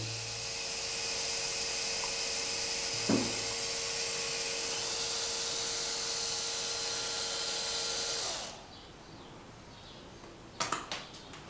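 A small electric motor runs off a half-wave rectifier power supply at about 26 volts, giving a steady high-pitched whine for roughly eight seconds before cutting out, followed by a few faint clicks.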